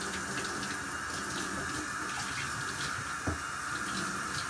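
Tap water runs steadily into a sink as it warms up for washing bottle-calf feeding gear, a continuous close hiss and splash with no talk.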